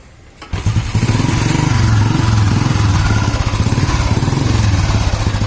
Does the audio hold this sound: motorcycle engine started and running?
yes